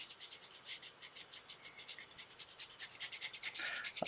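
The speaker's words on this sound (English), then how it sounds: "the hard, crappy bristle brushes like this are perfect for dry brushing" Hard bristle brush dry brushing paint, a close, quiet run of rapid scratchy back-and-forth strokes in a steady rhythm that grows slightly stronger toward the end.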